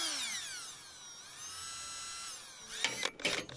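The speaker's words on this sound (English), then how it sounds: "drill three holes" Power drill boring holes into the roof of a static caravan during renovation: a sustained high whine with rising pitch for a few seconds, then a burst of rougher grinding as the bit bites through, close and clear.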